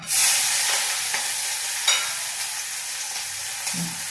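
Onions frying in a pan of hot oil with popped mustard seeds, giving a steady broadband sizzle with a few faint stirring knocks, close and moderately loud, no voices.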